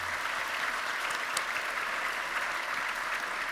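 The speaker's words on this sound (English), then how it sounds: "Can you give them both a round of applause?" An audience at a nursing white coat ceremony breaks into a sustained round of applause, a dense and even patter of many hands throughout with no talking.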